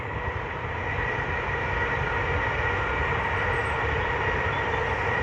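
A train passing near the Aberthaw Road area of Newport, heard as a steady, continuous rumbling roar that stays even and fairly loud throughout.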